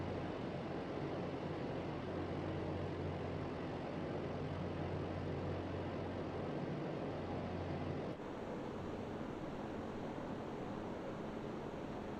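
Grumman Albatross engine drone in Microsoft Flight Simulator 2024, a steady loud propeller roar with constant low hum that continues alone throughout, shifting slightly in tone near the end.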